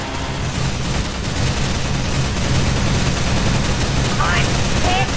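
Continuous video-game gunfire in FNAF Mysteries Rebooted, a dense steady roar of shooting that fills the whole stretch at high volume with no clear gaps.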